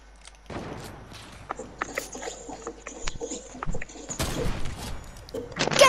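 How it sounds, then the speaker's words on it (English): Gunfire in the Fortnite video game: scattered sharp cracks and thumps at moderate loudness, growing busier toward the end with a cluster of louder shots. "Why are you shooting me?"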